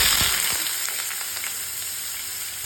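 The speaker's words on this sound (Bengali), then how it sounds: "কড়াইতে পরিমাণ মতো অল্প একটু তেল দিব অল্প একটু পেঁয়াজ" Onions sizzle and fry in a little oil in a wok, a steady close crackle with a few sharp clicks near the start and no talking.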